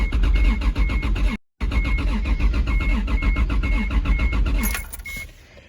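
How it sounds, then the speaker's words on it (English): Toyota Supra engine fitted with a new Cx Racing GT3082 turbo, cranking over repeatedly with the fuel pump off in a rapid, loud rhythmic churn that stops briefly, resumes, then winds down without firing. "I'm just gonna be cranking it over just to let the oil prime all the way through"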